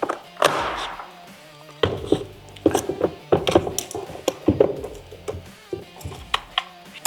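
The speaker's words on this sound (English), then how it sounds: "we're going to remove the 4 T25 screws" A tool works T25 screws out of a Harley-Davidson Street Glide motorcycle during a Stage 3 exhaust install, giving a series of close clicks, ratcheting ticks and thunks in irregular bursts, with no voices.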